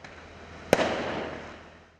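A single sharp firework burst fired by protesters at police during a street clash, a loud crack that trails off into a fading rumble, with no voices.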